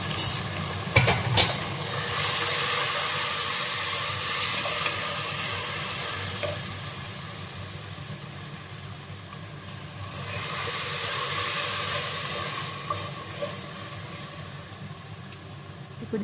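Masala sizzling and frying in a pan with a splash of water for bagara rice, a steady broad hiss that swells and eases over the clip, with occasional stirring clatters and no talk.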